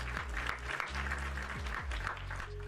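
Short burst of canned clapping from a chat command, moderate and steady for a couple of seconds, with low background hum underneath.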